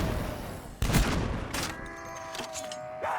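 Blundergat gunfire in a Call of Duty zombies custom map, a loud blast followed by a second shot amid game noise and faint electronic tones, with no talk.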